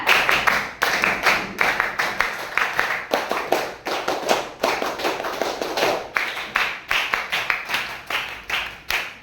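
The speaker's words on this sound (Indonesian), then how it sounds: "Coba ibu ulang lagi 3 kali tepuk pramuka." A group of teachers in a classroom practice performs the patterned Scout clap several times, sharp clustered hand claps in repeating rhythmic bursts with brief pauses between rounds, close and crisp.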